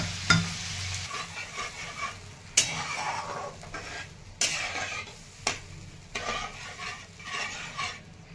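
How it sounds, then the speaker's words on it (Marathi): Cooked toor and masoor dal is tipped into a pan of sizzling tempering and stirred, bringing soft sizzle under several sharp scrapes and clanks of a spoon against the pan at irregular intervals, close by and with no speech. "आणि आता यामध्ये वरण आपण हे डाळ शिजून घेतलेली तुरीची आणि मसूरची हे टाकून घेणार आहे।"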